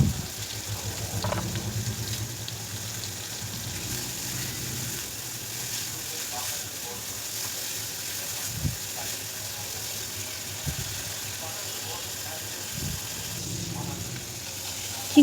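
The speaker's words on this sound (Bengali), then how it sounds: "চিংড়ি মাছটাকে আমি নুন আর হলুদ দিয়ে ভালো করে ভেজে নেব।" Prawns coated in salt and turmeric fry in hot oil with a steady, soft hiss and crackle, interrupted by a few low knocks of a utensil against the pan.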